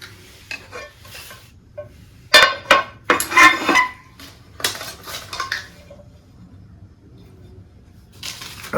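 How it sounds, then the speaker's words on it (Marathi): A knife chops lemons in a home kitchen, with sharp irregular strikes and clinks against a board or dish, coming in clusters with quiet gaps between, close by and without talk. "आता लिंब पण चिरून घेऊ। आपल्याला लिंब पण अशी चिरून घ्यायच्यात।"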